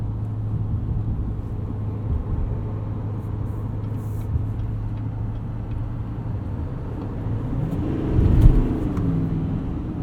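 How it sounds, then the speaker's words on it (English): A 2020 Silverado 2500 Duramax diesel 4WD crew cab pickup drives along with a steady low engine drone and road rumble heard from inside the cab, swelling briefly louder near the end. "It's so satisfying driving these big trucks with their diesel engines."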